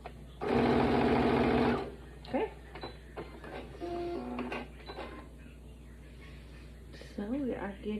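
A sewing machine stitches quilt pieces in a loud, close burst of rapid mechanical whirring, followed by shorter fainter runs and quiet handling of fabric, with a voice speaking over parts of it.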